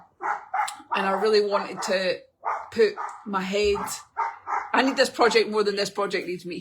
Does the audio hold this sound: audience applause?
no